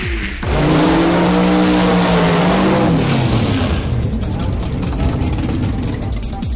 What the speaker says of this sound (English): Super Modified final saw Graham Ellis in the far lane racing the Rover of Danny Cockerell